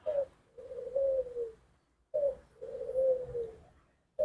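A perkutut, or zebra dove, gives two clear, close cooing phrases, each a short opening note followed by a rolling, wavering coo, separated by a brief pause, with a third phrase starting at the end.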